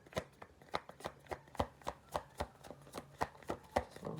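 Tarot cards being shuffled by hand, a close, even run of about fifteen crisp riffling snaps at a quick steady rhythm, with no talking.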